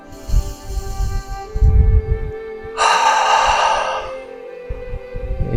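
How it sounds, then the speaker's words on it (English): A deep cleansing breath drawn in and released before chanting Om in a grounding yoga practice in Pisac, Peru, with audible breathy inhales and a long sighing exhale, close and soft, with no talking. "So inhale for a cleansing breath."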